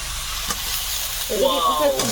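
Prawns drop into a hot pan already frying sliced potato and cauliflower with green chilli and ginger, giving a steady close sizzle that swells louder and brighter partway through as the prawns hit the oil.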